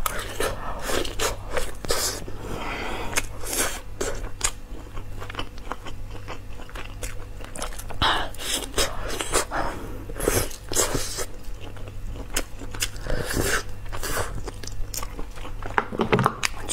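Close, crisp crunching and chewing of sweet and sour pork ribs, with repeated bites and steady mastication throughout and no talking.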